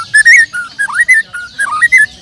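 Close, loud song of a white-rumped shama (murai batu): a rapid run of clear whistled notes that swoop and trill in short bursts, heard alone against a quiet background.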